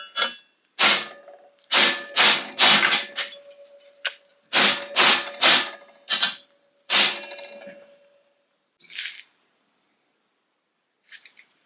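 A hammer strikes metal while the driver's sill of a 1969 Triumph GT6 Mk2 is fitted during restoration, giving about fifteen sharp, ringing clangs in irregular bursts and clusters, close and loud, with short pauses and a few fainter taps near the end.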